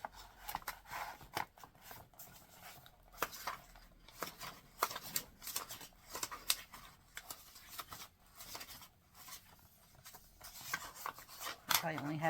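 Book pages are folded by hand into pinwheel-style folded art, giving close, soft papery rubbing and creasing swipes in an irregular rhythm, with faint talk in the background.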